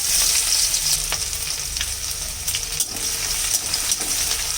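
Crushed garlic fries in hot oil with bay leaf, cardamom and dried chillies, a loud, steady close-up sizzle with occasional scrapes of stirring.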